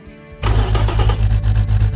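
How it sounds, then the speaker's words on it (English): A simulated BMW S50B30US engine in the Automation game, naturally aspirated with an aggressive camshaft, cranks and fires up suddenly, then settles into a loud, steady, throbbing idle with a deep rumble. "let's fire up the engine"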